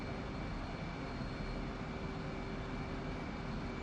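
Jet engine roar in the Digital Combat Simulator flight game as afterburners are lit, a steady, dense, loud rushing noise that holds unchanged throughout with no break.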